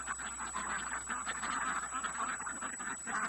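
Ducks quack softly outside a barn on a freezing winter evening, a faint, continuous chatter of calls over a steady high electronic whine.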